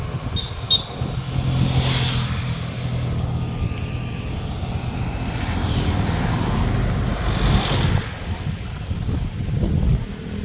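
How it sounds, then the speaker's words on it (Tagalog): A vehicle approaching from behind on a Philippine village road, a broad engine rumble that swells and passes close by over steady road and wind noise, with a couple of brief peaks. "May sasakyan sa likod."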